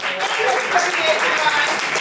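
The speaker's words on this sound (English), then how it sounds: "Clap for Grace." An audience claps at a youth poetry slam, a steady dense burst of applause that fills the whole moment at a fairly loud level, with no break in the clapping.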